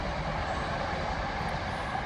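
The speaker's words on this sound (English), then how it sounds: "Yeah, just let the train pass." A train rolls past beside a canal path on the Forth and Clyde Canal near Bowling, a steady distant rumble of wheels on rails holding even throughout without a voice.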